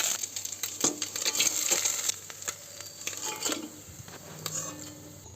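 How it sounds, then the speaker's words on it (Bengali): Small fish fry in hot oil until red and crisp, a soft steady sizzle broken by metallic clinks and scrapes of a utensil against the pan. "মাছগুলোকে ভালো করে লাল লাল করে আমাকে ভেজে নিতে হবে"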